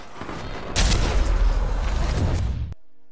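Pistol fire in the video game Apex Legends: a sudden burst of loud, rapid shots that runs for roughly two seconds and then cuts off sharply into near silence.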